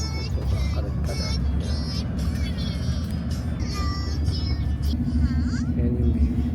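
Steady low road rumble of a car in motion with passengers aboard, a continuous hum under faint scattered voices and small rattles throughout.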